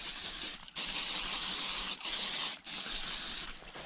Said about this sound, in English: I'll just turn it around and I will actually spray the inside as well.